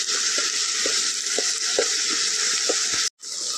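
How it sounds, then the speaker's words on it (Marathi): A spoonful of ginger garlic paste frying in hot oil for a Malvani clam gravy, with a loud, steady sizzle and regular soft stirring taps about every half second until a brief cut near the end. "याच्यात आता ही 1 चमचा आला लसूण पेस्ट ही बरी भाजू गई तेलात"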